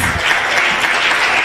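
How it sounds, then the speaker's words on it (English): Loud, dense applause from a symposium audience greets the speakers, a steady wash of clapping with no break and no voices. "Please give them a round hand of applause"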